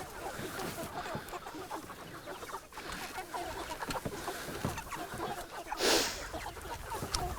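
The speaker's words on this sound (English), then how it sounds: "I can also hear the birds" Poultry cluck in a pasture, a steady, busy layer of soft clucking and chatter that carries on throughout with no clear pauses.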